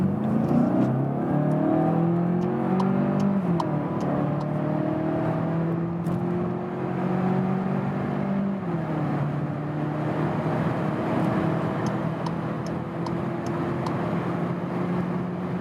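VW Passat GTE facelift plug-in hybrid accelerating hard, rising engine and motor tones climbing through gear shifts inside the cabin, each upshift dropping the pitch before it climbs again, no talk.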